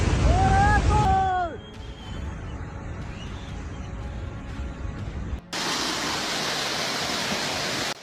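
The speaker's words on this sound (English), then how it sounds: "Landslide mixed with water tears through mountain roads, crushing cars below." A landslide mixed with water rushes down a mountain road, a broad steady roar of churning flow; a short wavering tonal cry opens the clip before the rush settles, then it cuts abruptly and resumes louder.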